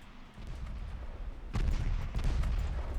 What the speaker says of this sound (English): Heavy cruisers, keep firing there. Light cruiser, fire over there.